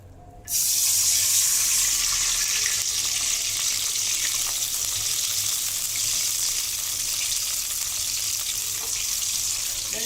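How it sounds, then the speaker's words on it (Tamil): Water poured into a pan of melted ghee over a low flame sets off a steady, loud hiss and sizzle that continues unbroken, with no voices. "இப்போ இந்த டம்ளரில் நான் ஒரு 2 டம்ளர் தண்ணி ஊற்றுறேன்"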